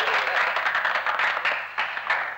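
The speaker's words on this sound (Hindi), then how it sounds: "तालियां" A small group applauds at an office gathering as a party is announced, a brief burst of close, dense clapping that tapers slightly toward the end.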